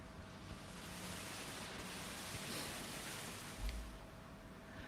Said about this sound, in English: A more complex sound still is white noise.